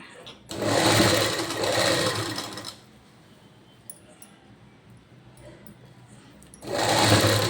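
A sewing machine stitches a thinly folded fabric edge in two loud, steady whirring runs separated by a quieter pause, with faint clicks and a voice talking in between.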